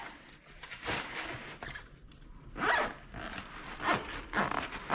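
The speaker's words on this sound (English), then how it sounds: "I'm going to zip it up." Zipper on the bag of a Hauck travel cot being pulled closed in several quick rasping strokes, close and clear with no talk.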